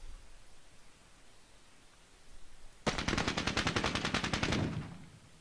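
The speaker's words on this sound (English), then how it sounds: "Oh, that heavy machine gun." Heavy machine gun fire from the Soviet-Afghan War game Squad Battles: a loud, rapid burst of close, evenly spaced shots lasting under two seconds, cutting in suddenly after a quiet stretch of background hiss and stopping just as abruptly.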